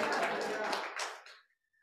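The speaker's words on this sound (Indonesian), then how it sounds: "Tepuk tangannya jangan setengah." A church congregation claps in a dense, steady burst of applause that quickly dies away to near silence.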